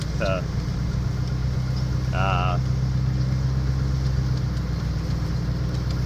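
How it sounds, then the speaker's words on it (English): A tractor runs steadily while a round baler wraps a bale of fodder in net, a continuous loud mechanical drone with faint whirring, briefly interrupted by two short whistled or squealing tones near the start. "the baler puts a net wrap on the outside of the bale to hold it all together"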